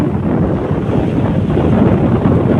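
Strong seashore wind buffets the microphone near the Ratneshwar Mahadev temple, a loud continuous rumbling roar with no break.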